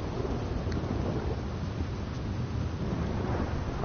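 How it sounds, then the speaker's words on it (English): Rolling thunder and steady rain from the open-world western game Red Dead Redemption, a dense, even rumbling wash at moderate loudness with faint brief crackles, and no one speaking. "More thunder."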